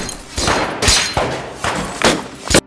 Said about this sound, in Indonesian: Setelah suara tembakan berhenti